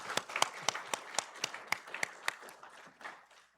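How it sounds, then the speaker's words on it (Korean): Church congregation clapping in praise during a Sunday worship service, a short burst of moderately distant, loose applause that thins out and fades after a few seconds. "하나님께 영광의 박수 올려드리겠습니다"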